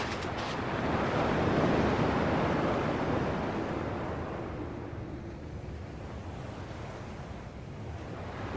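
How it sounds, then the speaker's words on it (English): Ocean waves in the video game Kingdom Hearts 2 roll as a steady, broad wash of surf. The sound swells and fades gently under a windy hiss, with no voices. "At least the waves sound the same."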